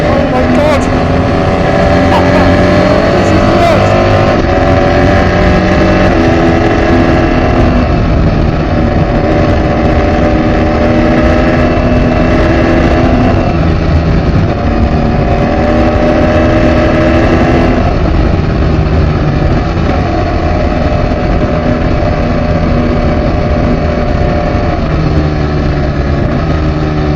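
BMW R1300GS motorcycle engine under way, a loud, steady drone with shifting harmonic tones as revs rise and fall, close and continuous throughout, with wind rush and a voice talking at times.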